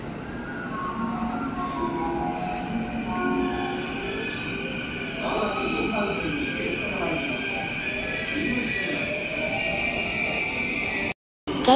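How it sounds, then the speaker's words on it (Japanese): A JR E233 series Keihin-Tohoku Line train rolls steadily into platform 4 at Shinagawa Station with a continuous rumble and faint wheel squeal, sustained for several seconds before briefly cutting out near the end. "京浜東北線4番線に E233 系が入線してきました。"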